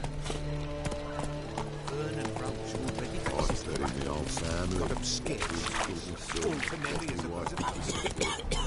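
Hooves of Roach, the horse in The Witcher 3, beat a steady clip-clop rhythm at a gallop, close and clear under a constant bed of game music and ambience, with occasional talk over it.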